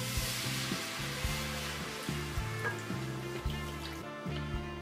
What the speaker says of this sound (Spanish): ahora le voy a añadir el vino blanco.